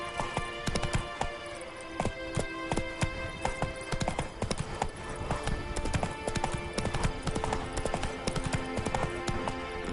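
Horse hooves clip-clop steadily while riding in the video game Witcher 3, a brisk, even rhythm of loud, close hoofbeats throughout, with no talking.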